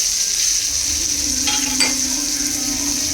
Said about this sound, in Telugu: తర్వాత వచ్చి ఆనియన్స్ వేసుకుంటున్నాను ఇందులో.